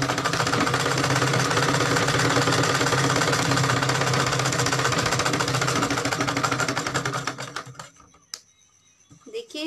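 Sewing machine running steadily as it stitches a half-inch seam on a plain blouse, a loud continuous mechanical whir with rapid needle clatter that stops near the end, leaving faint clicks and handling noise.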